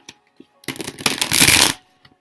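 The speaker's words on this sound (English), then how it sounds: "I did not pre-shuffle, so I'm going to get that done now" A deck of tarot cards is shuffled once, close and loud: a short flurry of flicking cards building to a dense riffle, then quiet, with a few small clicks before and after.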